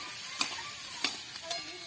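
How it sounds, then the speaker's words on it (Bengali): Onion frying together with potatoes in a pan while spicy egg and potato chow mein is cooked, a soft steady sizzle with a few sharp stirring clicks of a utensil against the pan. "এই আলুর সাথে পেঁয়াজটাকে ভালো করে ভেজে নেব।"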